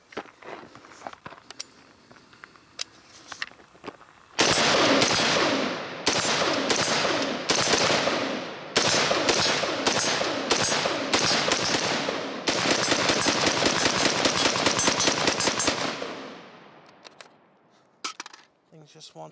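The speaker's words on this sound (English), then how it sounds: "we're going to make sure that this rifle runs on all these different brands of magazines" An HM Defense CommanderMB5 rifle fires rapid, loud shot strings close by, with short pauses between bursts, then the shots taper off; a few sparse clicks and handling sounds come before and after.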